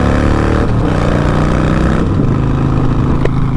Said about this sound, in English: Bike sounds so good, dudes.